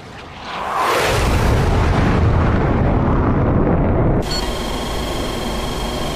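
Defensive gun turrets on the Admiral Kuznetsov aircraft carrier firing in DCS World, a massive continuous roaring barrage that swells in within a second, holds dense and loud, then drops to a slightly lower steady rumble with a faint whine.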